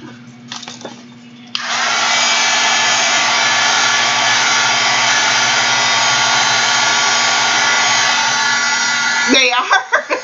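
A hair dryer runs at a steady, loud, even roar for about eight seconds while drying a freshly worked art journal page. There are a few faint knocks before it starts, and a short voice comes in as it shuts off.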